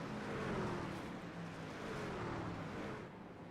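Racing truck engines in a video game race at Red Bull Ring, a faint, steady blended drone of several engines running together at a distance with no clear individual passes.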